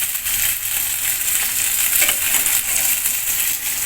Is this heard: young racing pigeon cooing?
no